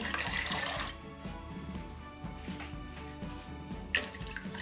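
A steady stream of water pours into a pot, splashing loudly at first, then quieting into a gentler trickle, with a brief louder splash near the end.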